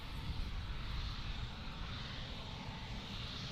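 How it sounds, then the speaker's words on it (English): An Embraer E175 airliner at Amsterdam airport gives off a steady, distant engine roar with a broad rushing wash that holds evenly for a few seconds. "And George, that was the Embraer E175. That is a Brazilian-made aircraft"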